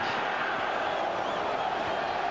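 Stadium crowd at a Celtic v Boavista football match in April 2003, a steady broad roar of many voices filling the space evenly throughout, loud and continuous with no single voice standing out.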